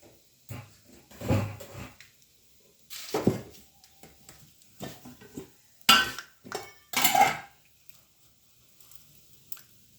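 Raw peanuts tipped into a pan for a tempering of tamarind rice prasadam, making several short rattling clatters of nuts and metal with clinks of a spoon, separated by quiet pauses, close by.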